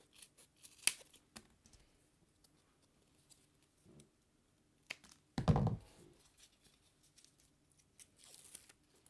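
Scissors trimming a piece of material for an autumn scene card, with a few faint snips and one longer, louder cut in an otherwise quiet room.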